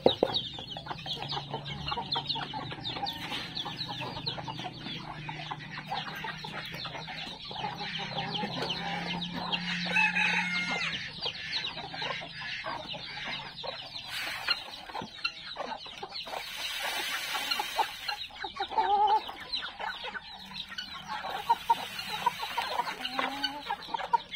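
Chicks and chickens cluck and peep at feeding time, a dense, steady chatter of many birds close by that runs throughout with a few louder squawks.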